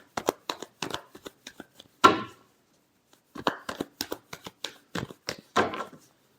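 Tarot cards being shuffled by hand in short rapid riffling bursts and flicks, a louder riffle in the middle, then a pause and another run of quick snaps, close and clear with no talking.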